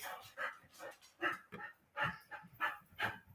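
Dogs bark in a quick run of sharp, repeated barks, roughly two or three a second, at moderate distance with no talking over them.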